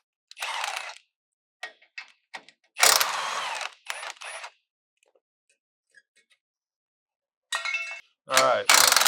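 Ratchet clicking in short bursts while 14 mm standoff bolts are removed during installation of a bumper on a GX 460, close and crisp, with pauses and a few metallic clinks between strokes.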